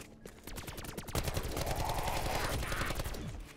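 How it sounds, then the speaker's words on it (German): Rapid automatic gunfire from the video game Black Ops 4 Zombies, a fast, evenly spaced stream of shots lasting the whole short burst, loud and close. "Muss öfter dran schießen."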